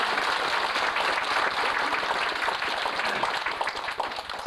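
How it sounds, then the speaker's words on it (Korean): A dense, steady wave of crowd applause fills the hall for the party chairman at the 1995 founding convention of the United Liberal Democrats' Songpa district chapter. The clapping is loud throughout and eases slightly near the end. "위원장님이신 박준규 의장님께 뜨거운 박수를 보내시기 바랍니다."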